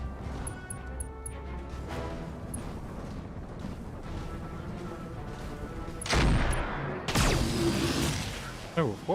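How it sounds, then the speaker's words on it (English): Thumper cannon fire in the BattleTech video game, with the BTA mod, lands as heavy booming impacts and crashes over a dense battle din, with a loud burst near the end and someone talking at times. "Thumper cannon."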